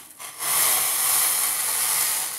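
Freshly boiled water is poured into a filter coffee maker, a soft start that swells into a steady close splashing hiss lasting about two seconds.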